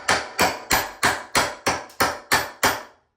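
A hammer striking a cat's paw pry bar wedged under door trim, eight sharp metallic blows in a steady, evenly spaced rhythm, close and loud, with no talking.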